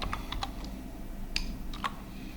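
A computer keyboard produces a handful of quiet, separate key taps as a short group name is typed in Moodle, with soft room hum underneath and no voices.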